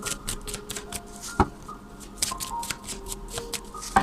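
Tarot cards being shuffled and dealt out, with crisp, close riffling and flicking and a few sharp snaps as cards land on a surface.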